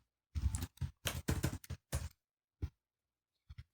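Keys clatter on a computer keyboard while code is typed, a close burst of quick keystrokes followed by a few separate presses and short pauses, with no talking.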